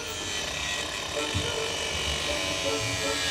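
A power tool cuts out a damaged section of a seat frame in a repair workshop, giving a steady, continuous buzzing whine that runs throughout at fairly close range.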